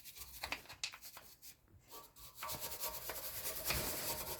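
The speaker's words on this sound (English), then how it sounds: "Take a metal brush on a metal, and we can clean off the caliper as well." A metal wire brush scrubs brake dust off a rear brake caliper on a Skoda, SEAT or VW, giving close, uneven rasping strokes that pause briefly midway, then resume as steadier, denser scraping.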